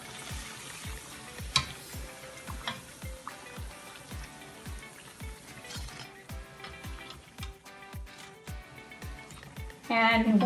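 Dal vadas, the lentil fritters for dahi bhalla, crackle and sizzle steadily in hot oil, a continuous close bubbling hiss with a faintly pulsing rhythm throughout.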